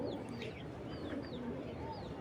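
Soft, continuous cooing and low fluttery calls from a pigeon kept in a Bangladeshi breeder's collection, close and steady, with faint background chatter.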